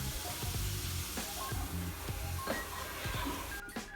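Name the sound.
stirring sweet corn into squash soup with a spoon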